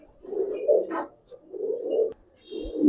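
Imported high-flyer pigeons coo in soft, low, rolling phrases, three close calls with short pauses between them and a faint chirp mixed in.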